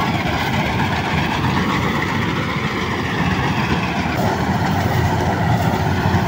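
A rice harvesting machine cutting paddy, its engine and mechanism producing a continuous, dense, loud mechanical rumble and clatter at close range with no letup.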